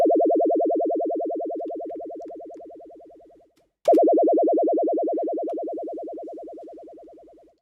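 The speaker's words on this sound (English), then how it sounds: "So you're hearing that warbling." FM synthesis tone, a 500 Hz carrier modulated at 10 Hz, giving a fast steady warble that fades slowly, cuts out with a click, then restarts loud and decays again.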